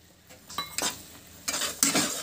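A spoon scrapes and clinks against a pan while stirring a sesame laddu mixture with cardamom powder, a few irregular bursts of scraping close by, with no voices.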